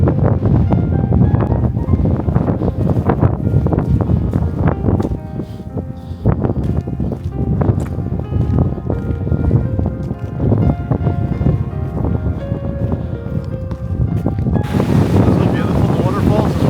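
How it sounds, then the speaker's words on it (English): Strong gusting wind buffets the microphone on a coastal mountain road, a loud continuous roar with rumbling bursts throughout. "It's very windy."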